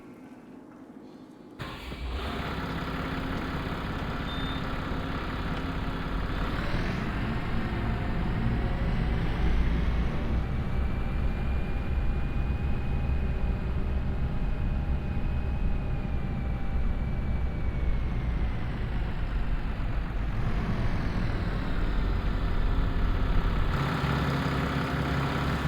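A restored farm tractor engine starts up and runs steadily at idle, a loud, continuous low rumble with a faint whine rising briefly in the middle.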